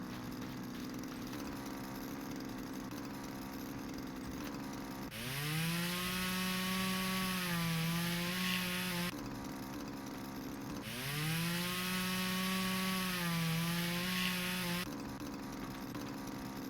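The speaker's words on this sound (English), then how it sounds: "Chainsaw." A chainsaw in the firefighting video game Flashing Lights cuts through wood in two long bursts of a few seconds each, rising from a steady idle buzz to a loud revving whine, with no talking.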